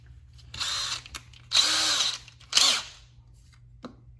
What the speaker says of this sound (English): I need to drill dead center